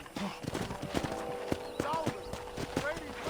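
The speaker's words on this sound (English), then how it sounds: "let's see if you can still ride a horse" In Red Dead Redemption, horse hooves clip-clop in a steady trotting rhythm, close and clear over a background of game ambience, with an occasional snort.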